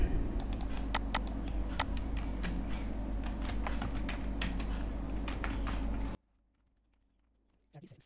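Rapid, close clicking of keys being typed on a computer keyboard runs steadily over a low hum for about six seconds, then stops into near silence, followed by a faint click.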